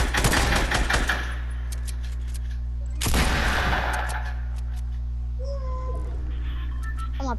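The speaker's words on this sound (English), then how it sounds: "I see people shooting." Gunfire in a video game, dense rapid bursts in two clusters, loud and near, separated by quieter stretches of game background.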